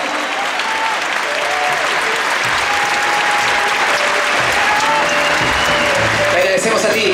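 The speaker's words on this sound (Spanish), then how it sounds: "recibas este enorme aplauso de todo el público de la Quinta Humberto" A huge festival crowd at the Quinta Vergara amphitheatre in Viña del Mar gives a sustained ovation, dense loud applause and cheering that swells steadily throughout, with whistles and shouts rising out of the roar.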